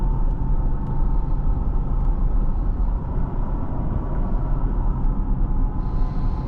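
A 2016 Porsche Cayenne S E-Hybrid drives on the road, heard from inside as a steady, deep engine and road rumble that holds at a constant level without talk.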